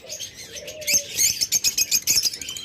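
Ringed lovebirds call nearby in rapid repeated chirps, the bursts tumbling over one another, with a flurry of wing flaps partway through.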